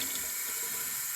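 Cold water runs steadily from a tap into a sink during a face rinse, a continuous broadband hiss and splash that stays fairly close and even throughout, with no talking.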